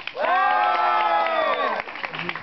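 An audience at a Palma Real night show breaks into a loud, sustained cheer that holds for over a second and then cuts off, leaving scattered clapping and crowd noise.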